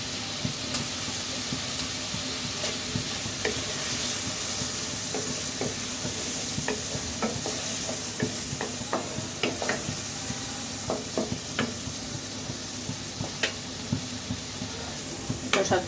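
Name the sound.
chopped tomato added to frying pan, sizzling and stirring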